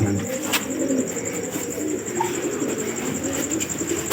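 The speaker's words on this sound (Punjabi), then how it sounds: "ਤੇ ਇਹ ਸੀ ਬਾਈ ਜੀ ਦਾ ਕਬੂਤਰ" Pigeons coo softly and steadily close by, their low burbling calls overlapping against a quiet background hum.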